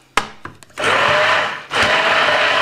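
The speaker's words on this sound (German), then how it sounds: "Und mit einem Pürierstab könnt ihr das jetzt erstmal schön fein pürieren." An immersion blender purees a pumpkin and mango sauce in a pot for coconut rice pudding, starting with a few short bursts and then running as a loud, steady whir. It dips briefly before spinning up again, with no voices.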